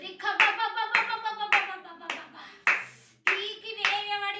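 A church congregation at Zion Church in Paluru claps together in rhythmic, fairly close bursts, roughly two claps a second, with a brief pause midway.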